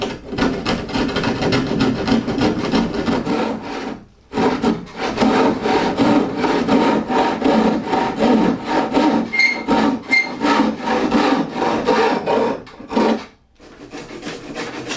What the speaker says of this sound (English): I draw a vertical line and cut off the last part.